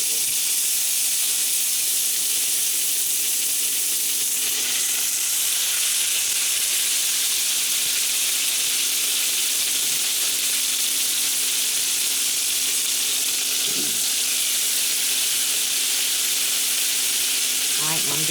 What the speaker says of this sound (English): I'm going to go on and put my steaks on now